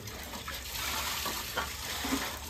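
Hot water poured or running for cooking chow mein at home, a steady close gushing splash that holds for the whole stretch with slight surges, moderately loud and without talk.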